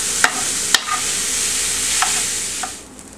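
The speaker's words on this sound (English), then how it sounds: "we're going to cook the tofu down until the tofu is nice and brown" Tofu fries in a pan until brown, a loud, continuous sizzle with a few sharp clicks and scrapes of stirring, the hiss easing slightly toward the end.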